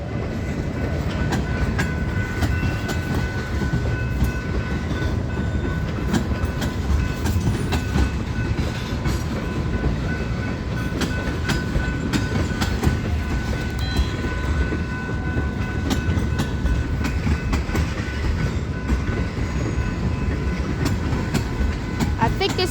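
A slow eastbound BNSF freight train led by locomotives 4162, 4227 and 4312 pulls out of a yard, its cars rumbling and clacking continuously and loudly up close, with squeals and faint voices mixed in.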